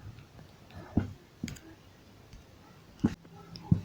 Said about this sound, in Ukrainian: Нам треба нажати оцю кнопку, там, де пише мор.